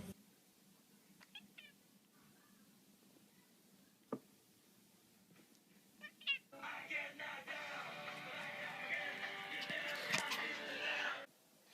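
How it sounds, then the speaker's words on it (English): A cat gives a few short, faint meows at a quiet indoor spot, then a louder rustling, scratching clatter takes over near the end. "I don't get why y'all like my cat so much."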